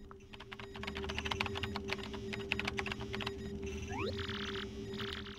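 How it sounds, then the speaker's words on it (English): Keyboard typing in Paper Mario: The Thousand-Year Door clicks in quick, irregular bursts of keystrokes over a steady musical hum, followed by a rising chirp and a couple of brighter electronic tones. "Use the keyboard to send whatever message you want."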